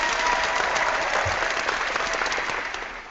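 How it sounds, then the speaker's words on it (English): Steady applause from many hands runs throughout, loud and dense, easing off slightly near the end, breaking in unexpectedly during an online discussion broadcast. "Where is that clapping coming from?"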